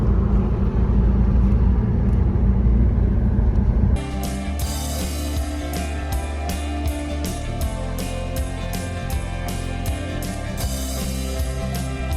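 A car driving along a road in Argentina, a steady low engine rumble and road noise heard from inside, loud and continuous with occasional bumps and rattles.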